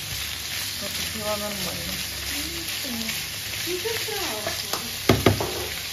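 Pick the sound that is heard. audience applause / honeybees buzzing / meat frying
meat frying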